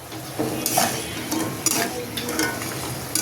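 Gaja, a crispy Bengali sweet, frying in hot oil with steady sizzling and occasional stirring and scraping clatter from a utensil, close and moderately loud, with no talk.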